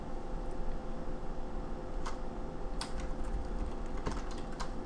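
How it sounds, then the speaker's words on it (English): Computer keyboard typing a command, a quiet rapid run of light key clicks over a steady background hum, with a few sharper taps standing out. "we're going to go to our command line again, and we just type in Yii migrate"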